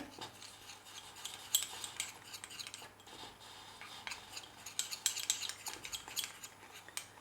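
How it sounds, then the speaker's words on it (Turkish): Ground cinnamon is mashed and stirred into water with a spoon, making repeated scraping, clinking strokes against the bowl in an uneven rhythm, close and fairly quiet with no talking. "Şöyle güzelce ezdim suda ve ekliyorum."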